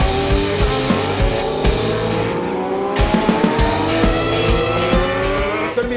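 Supersport motorcycles scream toward the finish line in the Masters Supersport Championship, their engines whining loud and high as they rise and fall through gear changes with no let-up.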